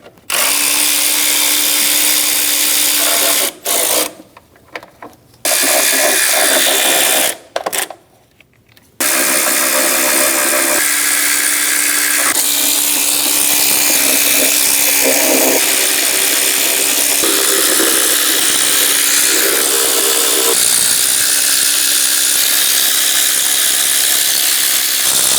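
Power tool spinning a 10mm socket to remove front timing cover bolts on a 2005-2009 Subaru Legacy, loud continuous whirring broken by a few short pauses early on, then running steadily with slight shifts in pitch.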